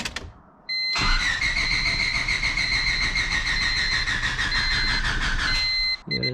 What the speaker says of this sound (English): Now we're in the car. We're gonna start it up.